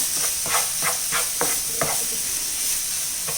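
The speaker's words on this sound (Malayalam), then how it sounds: "അതിട്ട് കൊടുത്തൊന്ന് ഇളക്കി മിക്സ് ചെയ്യാം" Mayonnaise being stirred into a bread and egg mixture in a pan, a spoon scraping in about five short, evenly spaced strokes over a steady close sizzle and hiss.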